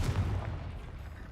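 A Confringo spell blast in a Harry Potter video game lands as a single deep, booming burst that rumbles and fades over about a second.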